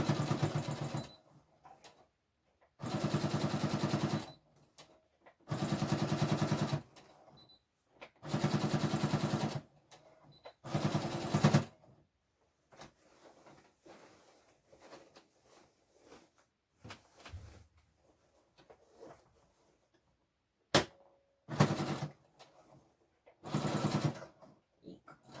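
A sewing machine stitches down a vintage-style apron skirt in loud, even bursts of rapid mechanical whirring a few seconds long, separated by quiet pauses, then shorter bursts later with faint handling noises between.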